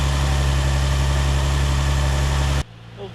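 A 2003-2007 Infiniti G35 idles with a newly installed cold air intake, a steady loud low rumble that cuts off abruptly near the end, leaving a quiet tail.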